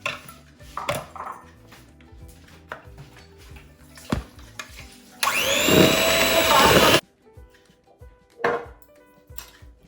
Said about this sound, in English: I will whisk this until creamy.